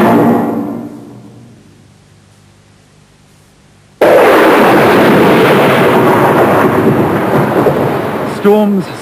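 A thunderstorm: a rolling thunder rumble fades out, then a loud, sudden crack gives way to a sustained heavy roar of storm noise, with a brief rise near the end.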